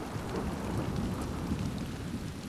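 Heavy, steady rain pours down in The Last of Us Part II, a dense continuous wash of drops with low rumbling thunder beneath, no talking.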